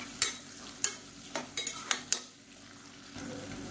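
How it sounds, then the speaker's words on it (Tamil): Onions sautéing in a pan for a crab curry: a spoon scrapes and taps against the pan in sharp, irregular strokes over a faint, steady low sizzle, close and without voices. "இப்போ வெங்காயம் நல்லா வதங்கிட்டு இருக்கு"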